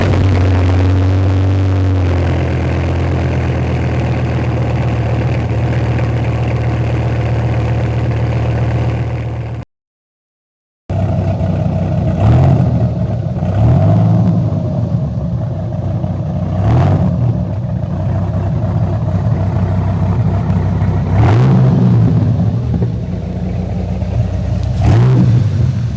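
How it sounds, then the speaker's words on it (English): A 2001 Dodge Viper GTS with several faults runs after a cold start, a loud low idle that drops after a brief cutout, then a few sharp revs rising and falling over the steady rumble. "Cold start, 2001 Viper GTS, second"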